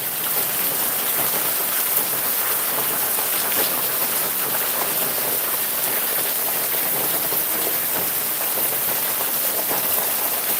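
Steady rain pours down over farmland during the monsoon sowing season, a dense, even hiss of drops on surfaces that stays constant and fairly loud throughout, with no voices.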